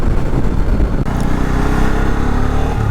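A Bajaj Pulsar N250 motorcycle engine runs loud and close as the bike pulls away, with a steady throaty drone and a slight shift in pitch partway through.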